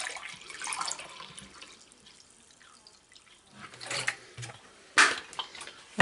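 Vinegar being poured to start a pickling brine for northern pike, with a few short liquid splashing bursts near the end after quieter stretches.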